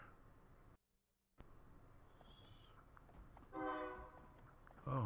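A train rumbles past outside in the horror game Hello Neighbor, with a blaring horn-like tone swelling loudly near the end over a steady ambient background after a brief silent gap.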